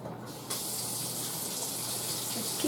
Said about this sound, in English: Let's keep turning my water on.